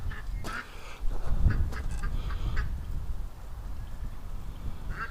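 Upset farm duck heading back toward the barn, giving several harsh quacks in an irregular burst close by, with outdoor background noise underneath.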